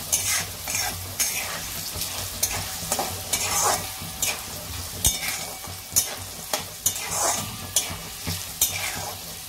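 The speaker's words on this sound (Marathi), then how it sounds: "बारीक गॅसवर लसूण पण चांगला भाजून घ्यायचा। हळद टाकायची, 1 चमचाभर हळद टाकायची। हळद पण चांगली भाजून घ्यायची" Garlic and a spoonful of turmeric roasting in a pan over a low flame for Kolhapuri bhadang: repeated close scraping strokes of stirring, fairly rhythmic, over a gentle continuous sizzle with no talking.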